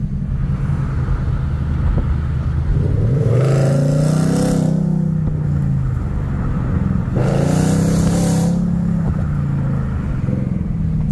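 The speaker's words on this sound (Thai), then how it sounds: "เสียงท่อเนี่ยโหดมากมากนะฮะ" A Ford Mustang with a Euro Arts aftermarket exhaust revs hard twice, deep rumbling swells rising and falling over a steady idle, loud and close.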